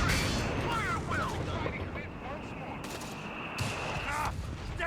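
Gunfire in the video game Company of Heroes 3, a desert battle with a machine gun team under fire, dense crackling shots and distant booms under a constant wash of battle noise.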